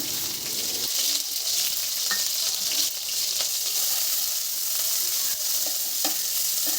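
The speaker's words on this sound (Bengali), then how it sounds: "পেঁয়াজটা কিন্তু একটু লাল করে ভাজবো।" Chopped onions and green chillies frying in mustard oil with whole cumin, a dense steady hiss of hot oil with occasional faint stirring clicks, close and continuous.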